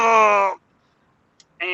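A person imitates a groan of pain out loud, two short voiced moans with a long strained tone, split by a near-silent pause.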